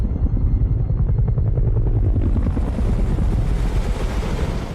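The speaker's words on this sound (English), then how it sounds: "They really had to get a military-style helicopter, huh?" A military-style helicopter roars loud and close, its rotor thudding in a steady beating wash mixed with wind noise that stays constant throughout.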